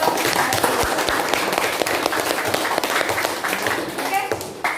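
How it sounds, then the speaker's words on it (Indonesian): Classroom applause for a student group after their presentation, a dense steady patter of many hands clapping at close range, sustained throughout with light voices mixed in. "kita berikan tepuk tangan untuk kelompok 1"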